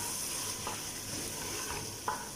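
Tomatoes stirred into a hot pan for homemade butter chicken, a steady sizzle and frying hiss with a few soft scraping strokes of the spoon, close and fairly quiet, with no talking.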